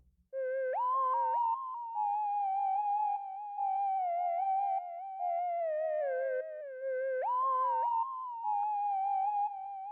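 A second synth lead with a smooth, pure tone plays an octave higher in long, sustained, gliding notes that slide between pitches in a slow, steady melodic line.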